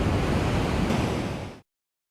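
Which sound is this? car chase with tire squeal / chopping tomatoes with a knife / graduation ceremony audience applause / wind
wind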